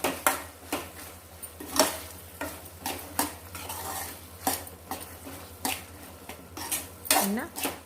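A utensil stirs salted field beans in a pot, producing about a dozen rhythmic metallic scrapes and clinks against the pot over a faint sizzle, close by with no speech.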